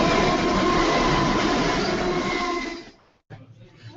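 A train rolls past at a railroad crossing, a loud steady rumble and wheel clatter holding for nearly three seconds before cutting off abruptly, leaving faint background noise.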